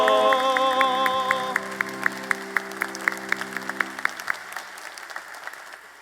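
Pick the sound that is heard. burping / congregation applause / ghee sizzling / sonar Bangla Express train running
congregation applause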